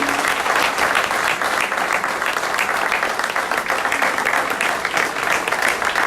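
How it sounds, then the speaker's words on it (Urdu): Dense, continuous clapping from a big crowd at a PTI political rally in Pakistan, loud and steady without a break for about six seconds. "وہ لوگ جو دور سے چل کے آئے ہیں ان کے لیے تالیاں"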